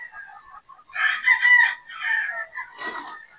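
Boston Roundhead pullets at a game farm cluck and call close by, with a crowing rooster joining in over several short bursts and no talking.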